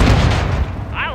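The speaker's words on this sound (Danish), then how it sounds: "Det var kun én eksplosion." A single explosion blast in the video game Call of Duty: Modern Warfare 2, loud and close with a booming low-end burst that fades over about a second.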